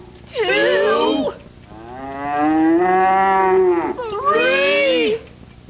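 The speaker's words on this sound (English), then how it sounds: "Say, Clementine, were that a cow?" Loud, close cow mooing in four calls: a short bellow, a long sustained low moo, then two more bellows in quick succession, with no talking.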